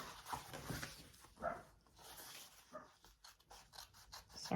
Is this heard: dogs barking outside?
yes